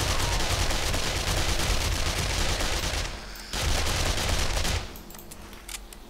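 Rapid gunfire rattles in the 7 Days to Die video game, dense bursts of shots in close succession that pause briefly, resume, then thin out into scattered fainter reports.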